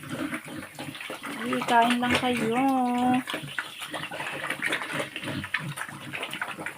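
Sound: water pouring into a pig feeding trough

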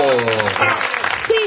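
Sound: audience applause in pub

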